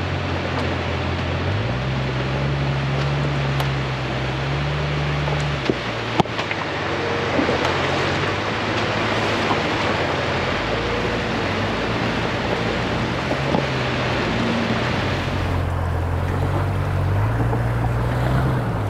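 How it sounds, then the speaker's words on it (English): A river running at moderate height along a desert gulch trail toward Toquerville Falls makes a steady, broad rush of flowing water, with some low wind rumble mixed in and no voices. "Good thing this river is not too high."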